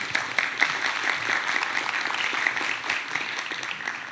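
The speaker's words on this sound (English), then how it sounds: "Give him a round of applause" Steady, enthusiastic applause from a conference audience in Brazil after a talk, a dense patter of clapping that continues throughout.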